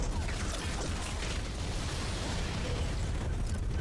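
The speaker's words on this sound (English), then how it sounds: "Explosions." Explosions in the video game Halo: Combat Evolved form a dense, continuous roar of booming blasts and rumbling debris, loud and sustained throughout without any voices.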